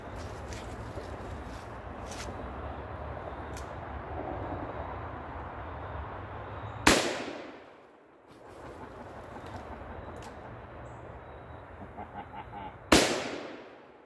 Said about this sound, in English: Taurus M44, 44 Magnum. Let's see if we can blow some stuff up.